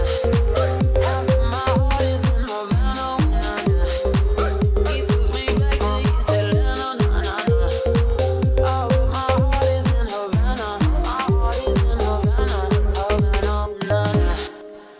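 A remix drop pounds along loud and dense, an M1 organ layered with the bass in the same pattern over full driving drums, steady and continuous throughout.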